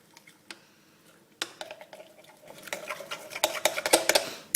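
Spoon stirring white chocolate and warm ginger cream in a bowl, quiet scraping at first, then busier clinking and scraping against the bowl growing louder toward the end, with no voices.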